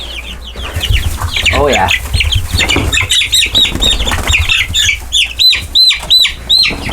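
Meat chickens being caught in a desert chicken tractor cluck loudly and repeatedly up close in rapid bursts, with wing flapping. A person speaks briefly.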